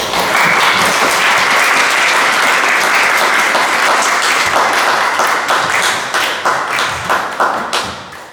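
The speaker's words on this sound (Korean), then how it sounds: "박수 한번 주시기" A church congregation at a Sunday worship service bursts into loud, close applause that sustains, then thins into distinct individual claps as it dies away near the end.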